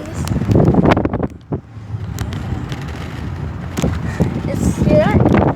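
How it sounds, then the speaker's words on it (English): Strong outdoor wind buffeting the microphone in loud, uneven rumbling gusts, heard under a person talking excitedly close by. "Okay guys, it's windy."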